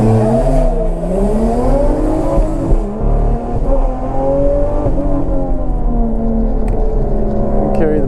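A Toyota JZX100 drift car's engine revs and climbs at a drift competition, a loud, continuous roaring drone with rising and falling pitch sweeps close by throughout.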